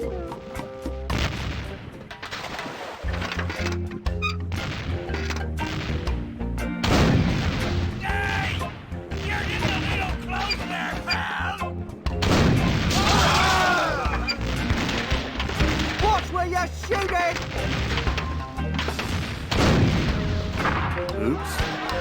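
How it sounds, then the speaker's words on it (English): A self-loading cannon fires repeatedly aboard a pirate ship in The Curse of Monkey Island. Loud, booming blasts and crashes keep coming over dense game music, with voices now and then. "it's one of those new self-loading cannons I've heard so much about"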